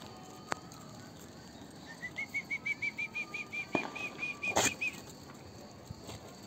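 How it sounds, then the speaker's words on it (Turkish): A bird's wings flap in a quick run of about a dozen soft beats at a bird coop, faint against a quiet outdoor background, with a couple of sharp clicks nearby. "Onun kanat sesi geliyor"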